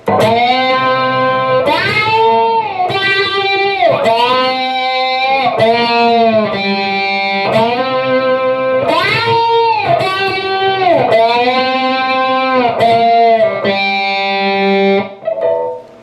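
Distorted electric guitar plays a sliding riff on the third string from a rock song, loud repeated phrases with pitch glides into each note and a steady rhythm, heard alone until it cuts off at the end.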